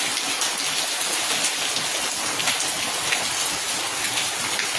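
Rain pours steadily outdoors in a thunderstorm, a dense even hiss of drops striking surfaces without letup, with no talking.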